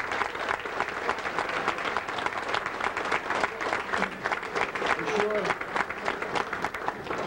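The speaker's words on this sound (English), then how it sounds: "let's give them a round of applause" Steady, sustained applause from a banquet crowd at a 1996 Philadelphia high school football all-star banquet, filling the room evenly for the whole stretch with faint voices underneath.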